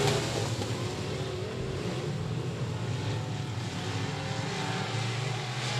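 Race cars in the G4 class roar around the Texarkana 67 Speedway oval in the A main, a dense, continuous engine drone sweeping past with no break.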